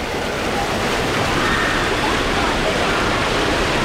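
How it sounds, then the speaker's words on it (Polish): Steady, loud rushing water of a fast mountain river near Zakopane's thermal baths fills the whole stretch, a dense continuous roar with no breaks or voices. "Od razu widzimy z góry też rwącą rzekę."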